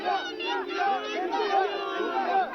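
A dense crowd at a political gathering: many overlapping voices chattering and calling out at once, with a thin, band-limited, phone-like tone.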